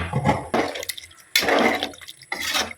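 Water is poured into a cooking pot for vegetable biryani in three separate splashing bursts with short pauses between them, close and clear.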